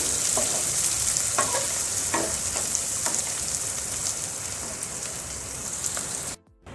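Onions frying in a pan until golden for a pumpkin dal, with a dense, constant sizzle close up and light scraping stirs near the start before a sudden cutoff at the end.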